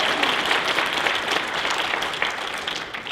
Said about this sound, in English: can we have a round of applause for it?